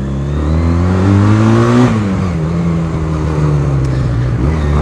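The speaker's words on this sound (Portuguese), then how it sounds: "É outra moto com carburador acertado." Motorcycle engine with a properly tuned carburetor, revving up steadily then dropping back and holding, loud and close with no talk.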